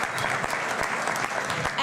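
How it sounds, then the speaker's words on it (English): An audience at a horse racing forum conference claps in dense, sustained applause filling the whole stretch, with brief voices mixed into the clapping. "Can we give them a big applause because they will fight against each other to win."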